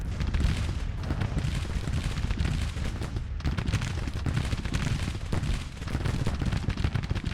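Artillery and gunfire in the Civil War strategy video game Grand Tactician, a dense, continuous barrage of booms and rattling shots with no letup.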